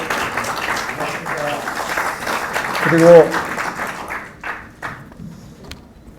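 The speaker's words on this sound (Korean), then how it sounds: "다시 박수 한번 쳐주시고" Applause from a forum audience at a special lecture by a provincial governor, a dense patter of clapping that swells mid-way and then thins out, with a voice speaking over it.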